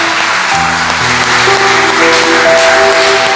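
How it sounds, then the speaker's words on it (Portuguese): A church congregation claps together during a Portuguese-language worship service, a loud continuous wash of applause with sustained organ or keyboard notes ringing underneath. "Vamos aplaudir o nosso Deus Todo-Poderoso."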